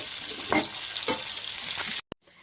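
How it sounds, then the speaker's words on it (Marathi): Onion sizzling and frying in a pan while cooking soybean masala, a steady dense hiss with a few stirring scrapes, close and continuous before breaking off abruptly near the end. "कांदा छान परतून झालेला आहे"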